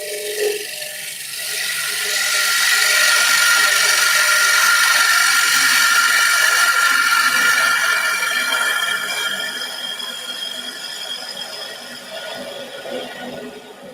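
A wood lathe spins a platter while a bowl gouge cuts across it, giving a steady, loud hiss and whir that swells for several seconds and then eases off slightly.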